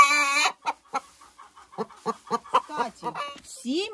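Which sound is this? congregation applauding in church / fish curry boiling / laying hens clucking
laying hens clucking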